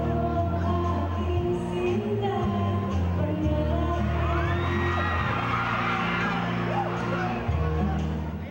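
A crowd cheers and shouts during Kelvin and Kate's duet on stage at a Kapuso Christmas show in Davao, the steady roar blending with loud music throughout.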